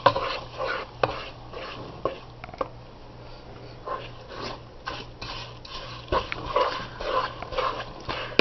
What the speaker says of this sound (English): I'm going to go ahead and stir